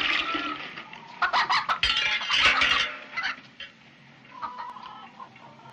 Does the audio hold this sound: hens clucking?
yes